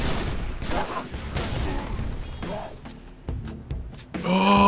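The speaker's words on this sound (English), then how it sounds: "Oh, battle rifle." Battle rifle fire and other gunshots crackle through a Halo 3 firefight, bursty shots and booms layered with game sounds, with people talking over parts of it.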